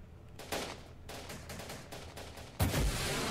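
Rapid bursts of automatic gunfire and heavier weapon shots crackle through a modern Syrian war battle in the Syrian Warfare strategy game, steady and dense, with a louder, closer burst near the end.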